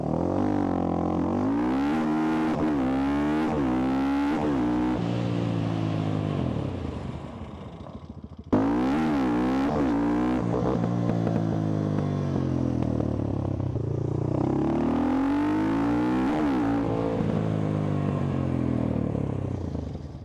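A cheap supermoto motorcycle engine runs close by and is revved repeatedly, its pitch rising and falling in waves over a continuous loud drone, with a brief dip midway before it picks up again.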